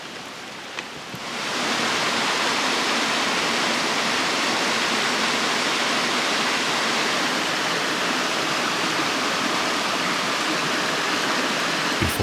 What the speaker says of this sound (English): the forest echoed with the sound of falling water